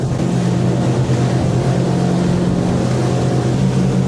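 A speedboat with twin 150 HP outboard engines runs at speed during a sea trial, giving a loud, steady, close drone with a constant hum and rushing water and wind beneath it.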